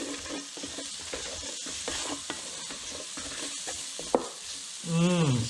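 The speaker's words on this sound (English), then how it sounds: "we're just going to give this a stir for about 20-30 seconds. We want to bloom up these spices" Spices bloom and fry in a pan while being stirred for Zambian cabbage with pork, a close soft sizzle with scraping strokes and a brief clatter near the end.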